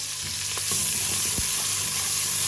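Chopped onion and green chili fry in hot ghee, making a loud, dense, continuous sizzle with a few soft knocks and stirring scrapes. No voices are heard.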